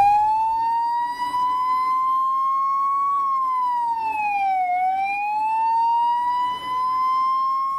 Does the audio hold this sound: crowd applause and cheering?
no